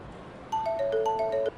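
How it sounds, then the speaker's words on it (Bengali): A phone ringtone chimes in a short melodic run of bright tones, moderately faint in a quiet room, starting partway through and cutting off abruptly after about a second. "কে ফোন করছে? ধরে নাও।"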